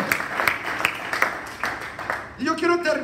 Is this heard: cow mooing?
no